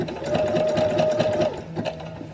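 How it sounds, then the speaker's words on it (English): A sewing machine stitches a bra, running in a steady close whirring hum with a rapid needle rhythm that slows briefly near the end. "put the foot down, start sewing a little bit"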